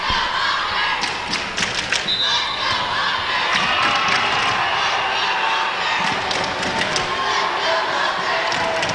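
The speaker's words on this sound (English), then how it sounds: "The crowd cheering for their Honkers in the stands" Spectators in the stands at a Division I championship volleyball match roar for the Nevada Union Honkers, a loud, steady crowd cheer with scattered shouts and thumping thuds throughout.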